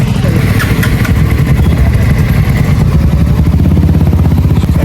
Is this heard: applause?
no